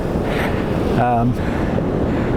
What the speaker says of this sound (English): The waves are crashing in right behind me here.